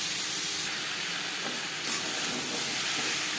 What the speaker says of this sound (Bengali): লবণ হলুদ দিয়ে 3-4 মিনিট আম ভেজে নেব।